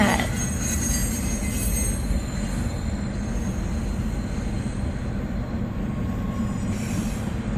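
A train rolls past close by, a steady loud rumble of wagons on the rails with faint wheel squeal, continuous for the whole stretch with no voices.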